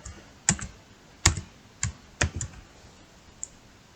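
Keys struck on a computer keyboard in short, separate bursts of clicks, several quick taps followed by pauses, close and fairly quiet over a faint background hiss.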